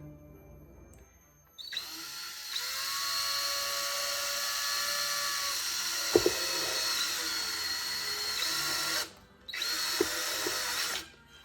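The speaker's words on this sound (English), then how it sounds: "we want to drill out our 2 holes here for our jack and for our gain stage pot" A unibit step drill boring holes for a jack and pot in a 50-watt amplifier head chassis, a loud high whine with shifting pitch that runs for about seven seconds, cuts out briefly, then resumes.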